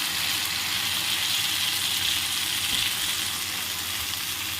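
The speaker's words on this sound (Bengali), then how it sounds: "মাটনগুলো বসিয়ে আমি কষতে লাগলাম" Mutton frying in oil with ginger, garlic and spices, a steady, close, loud hiss of sizzling fat that holds evenly without pause.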